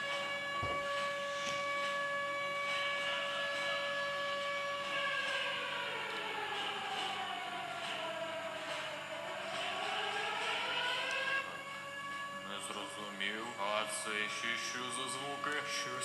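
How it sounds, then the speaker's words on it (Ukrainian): An air raid alert siren in Kyiv wails loudly and steadily, its pitch slowly falling and rising across the clip before cutting off near the end, leaving a noisier, warbling tail. "почалася повітряна тривога."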